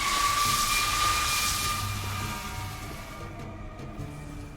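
Distant acid spray sound effect for a fight scene: a broad, washing hiss with a faint whine that starts fuller and gradually thins and fades toward the end.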